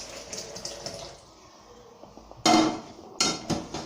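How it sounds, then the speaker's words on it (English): Boiled water from pumpkin cooking is poured back into a pot in a Kenyan home kitchen, with a soft watery trickle first, then two loud splashing pours near the end, and no talking. "I'm going to return the water that I boiled with in the pot."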